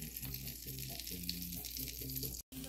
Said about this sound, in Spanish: Ahora vamos a dejar que se sofría bien el ajo aquí con la mantequilla